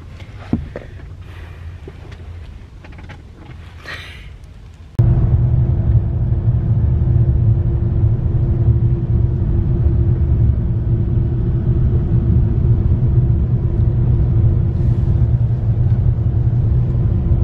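Steady, loud low engine rumble and road drone from a car cruising on a long drive, a constant hum filling the cabin after a quieter opening with faint movement and rustle, no talk.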